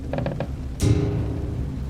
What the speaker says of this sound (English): The wood creaked and the latch rattled once before the pressure released.